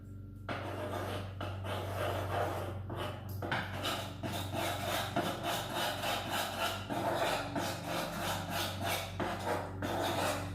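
Pistachio paste being stirred into white chocolate ganache in a bowl, a steady scraping and rubbing of a utensil in repeated strokes throughout, close and fairly loud over a low background hum, with no talking.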